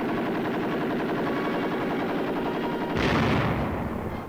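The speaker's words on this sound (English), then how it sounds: "Comparison firing, 50 caliber machine gun. An aircraft machine gun." A .50 caliber machine gun and an aircraft machine gun fire in a 1951 military comparison demonstration. Dense rapid bursts roll on without a break, loud and harsh, and turn brighter and heavier near the end.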